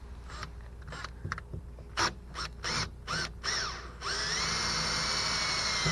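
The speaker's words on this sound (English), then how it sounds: "we'll probably want to pilot these holes here" A power drill bores pilot holes for small screws during a tankless hot water heater install, heard as a series of short whirring bursts followed by a longer steady run, close and fairly loud.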